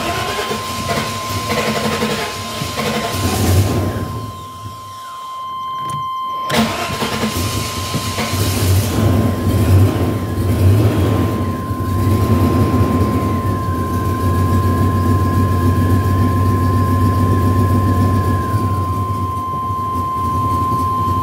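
A 1999 GMC engine running steadily after its throttle body and exhaust were cleaned, a sustained loud mechanical rumble with a steady whine, briefly dropping out mid-clip before resuming.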